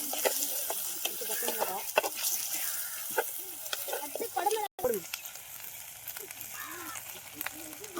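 Curry leaves crackle and sizzle in hot oil for a South Indian egg gravy, a close, busy spitting and popping under a person talking.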